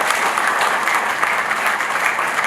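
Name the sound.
conference audience applauding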